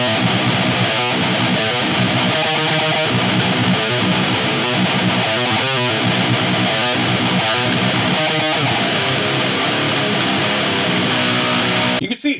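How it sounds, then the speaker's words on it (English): An electric guitar through a Metal Zone distortion pedal with distortion fully up plays heavily distorted, buzzing chords and riffs, loud and continuous, with a fizzy, chainsaw-like edge. "still with the distortion all the way up, we still get that chainsaw sort of effect"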